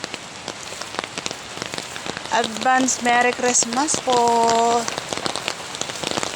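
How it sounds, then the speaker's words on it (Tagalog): Heavy rain falls steadily throughout, a continuous hiss with drops striking a surface, while someone talks over it and brief tonal voice sounds rise mid-clip. "Ang lakas ng ulan guys."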